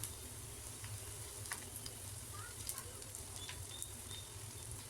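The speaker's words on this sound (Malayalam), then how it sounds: "ഇനി ഇത് നല്ലപോലെ ഒന്ന് വഴറ്റിയെടുക്കുക" Vegetables being sautéed in a pan for chicken fried rice, a faint low sizzle with scattered light clicks and scrapes, quiet and steady, with no one talking.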